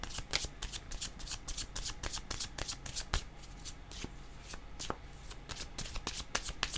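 Tarot cards being shuffled in a steady run of crisp riffling flicks and slaps, close and fairly loud, continuing without pause and with no voice over them.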